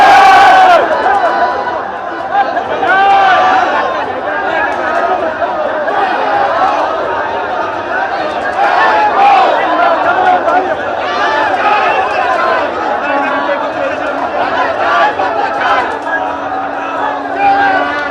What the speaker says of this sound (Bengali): পরিষ্কার স্লোগান তোলা হচ্ছে